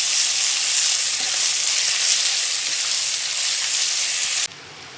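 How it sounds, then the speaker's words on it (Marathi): Ginger and garlic sauté in oil in a pan for a vegetable pulao, a dense, even hiss of frying that drops sharply quieter near the end, no voices. "तर आता थोडं आलं लसूण टाकल्यानंतर मी ते परतून घेतलेलं आहे"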